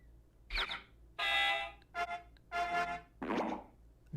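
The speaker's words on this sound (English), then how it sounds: "There it is. Squish pop." Squish pop cartoon sound effect from the wacky sound library of the Scratch game-programming tool, several short squelchy pops and bursts repeated in a row, moderately loud against a quiet background, with no talking.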